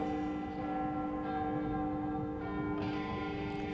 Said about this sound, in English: there came yet another chiming of the clock